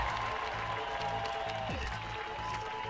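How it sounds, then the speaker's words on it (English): Canned crowd applause plays on the trophy screen of the V-Rally 3 rally racing game on Xbox. It is a steady, even patter of clapping under looping game music with rhythmic bass pulses, and a short falling sound effect partway through. "the clapping animation"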